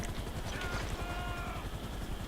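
A helicopter in the video game GTA V, its rotor chopping in a fast steady pulse with a faint whine above, moderately loud and alone.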